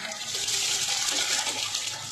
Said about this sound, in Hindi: अब हम इसमें चावल बॉयल करने के लिए डाल देंगे